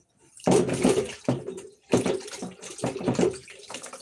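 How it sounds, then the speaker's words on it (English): Hands rinsed under running water in a kitchen after cooking ugali: close, loud splashing that comes in uneven bursts with short breaks between them, and no talking. "So I need to rinse out my hands."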